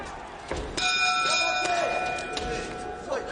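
A boxing match round bell rings once with a bright ringing tone under the steady roar of the arena crowd and commentary.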